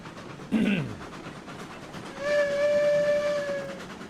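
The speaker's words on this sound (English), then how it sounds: "a little bit of steam let off there" Steam locomotive in the video game RailRoads Online, a short hiss and thump, then a sustained whistle-like steam blow lasting over a second, near and moderately loud.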